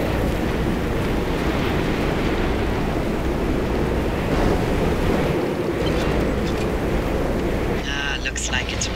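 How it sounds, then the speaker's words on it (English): Wind blows steadily outdoors in the video game Pacific Drive, a dense continuous rush that holds for the whole stretch. Near the end a brief scraping rattle rises over it. "Alright, it's a little windy out here."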